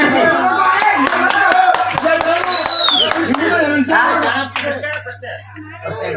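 An audience at a folk singing performance (dollin pada, a melā) breaks into brisk, sharp hand claps, many quick claps in an uneven stream, loud and close, fading near the end, with a steady hum beneath.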